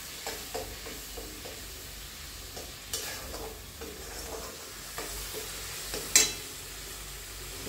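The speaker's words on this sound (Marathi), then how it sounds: "त्याला मोठ्या गॅसवर ते थोडंसं परतून घ्यायचं।" Pav bhaji masala sautés in oil over a high flame, a soft steady sizzle broken by occasional scrapes and clinks of a spoon stirring in the pan, quiet and close, with no talking.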